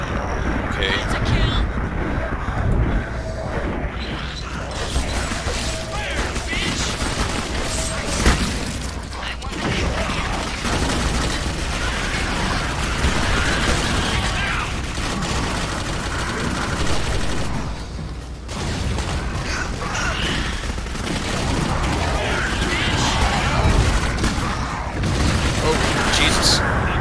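Bursts of gunfire ring out in the horror shooter Clive Barker's Jericho, packed into a dense, loud battle din that runs the whole stretch. Voices talk over the fighting.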